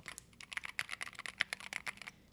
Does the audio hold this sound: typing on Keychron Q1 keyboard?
yes